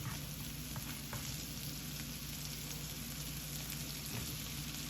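Blanched green beans sizzling in a pan alongside carrots, a quiet, steady close hiss with faint crackles and a few stirring taps.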